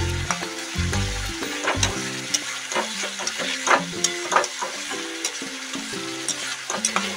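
Spice masala frying and being stirred in a pan, its moisture cooking off for Bengali doi katla: steady close sizzle with repeated scraping strokes of a spoon, no voices.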